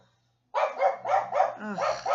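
A pet dog named Angel barks in a quick run of five or six close, fairly loud yips and woofs, with a brief whine in between.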